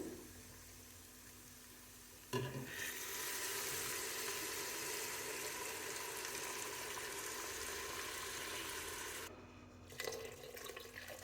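Strained broth poured into a pan of cooking mushrooms for a Chinese soup, a steady rushing splash and sizzle that runs for several seconds and then cuts off abruptly.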